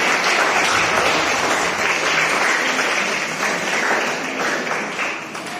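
Steady, full applause from an audience of students, parents and guardians at a school felicitation ceremony, loud and continuous throughout with only slight easing toward the end and no voices over it.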